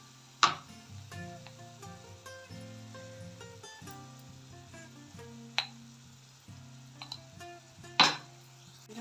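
Mushrooms are stirred in a pan for a pepper fry with chili powder and turmeric. A utensil gives sparse metallic clinks and scrapes against the pan, with a few sharper knocks, over a quiet background.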